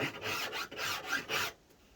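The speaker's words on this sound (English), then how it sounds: "Be filing and sanding and all sorts just to make it all nice and smooth." Rasping strokes of a file and sandpaper on a wooden guitar neck, about five steady back-and-forth passes, close up, then quiet.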